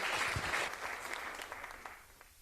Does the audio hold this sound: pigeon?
no